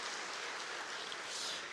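A church congregation at a Sunday service applauding to welcome a new choir conductor, a faint distant patter of many hands, even and hiss-like throughout.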